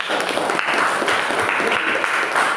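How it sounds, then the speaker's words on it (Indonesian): A classroom of students claps together in a steady, dense burst of applause that holds evenly for a couple of seconds, close and fairly loud, with no one speaking over it. "Mantap, tepuk tangan dong, betul ya"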